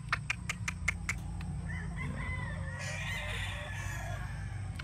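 Boston Roundhead pullets cluck and call softly in a yard, with a quick series of sharp clicks at the start and steady background noise throughout.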